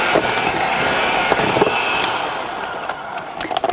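An electric mixer creaming cookie dough with butter, sugar and vanilla, a loud steady whirring drone with small rattles toward the end, close and alone without talk.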